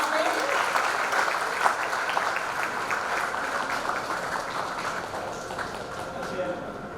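Students applaud a classmate at a convocation ceremony, with sustained, dense clapping from a large crowd that stays steady throughout the hall.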